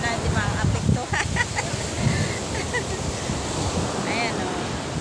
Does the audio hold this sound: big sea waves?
yes